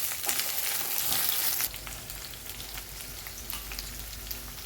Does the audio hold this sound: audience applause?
no